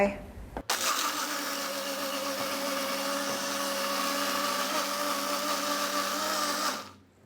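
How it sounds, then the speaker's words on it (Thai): An electric blender whirs loudly and steadily for about six seconds, crushing ice with milk and malt powder for an Ovaltine milkshake, then winds down abruptly. "พอเราปั่นเครื่องปั่นแบบแรงๆอะค่ะ"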